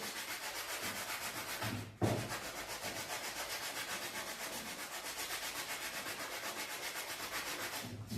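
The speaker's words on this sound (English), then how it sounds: "all this hand sanding" Old wooden window frame being hand sanded, a steady rhythmic back-and-forth rasp of sandpaper on wood that runs throughout with a brief pause near the two-second mark, close and fairly loud.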